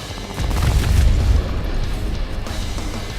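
FAB 3000 heavy bombs exploding among enemy players in the video game War Thunder, heard as a deep, loud rumbling boom that swells and then slowly fades into a low, sustained roar.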